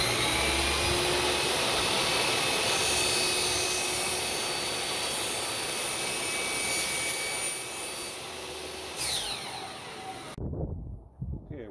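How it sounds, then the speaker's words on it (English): A compound miter saw cuts slowly through hard plastic garage door weather stripping, a loud sustained whining roar that fades after about ten seconds into quieter handling noises. "if you're going to be using the compound miter, you're going to want to be going through this slow"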